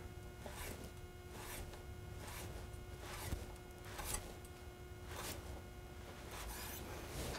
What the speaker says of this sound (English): So I'm going to cut these into long matchsticks like julienne.